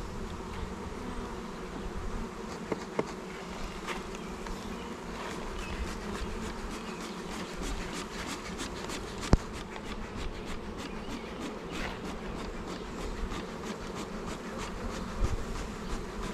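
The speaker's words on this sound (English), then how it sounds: "Got bees flying around the frames I'm trying to put in." Honeybees buzz continuously at close range around hive frames, a dense droning swarm with occasional louder passes and faint clicks of handling frames.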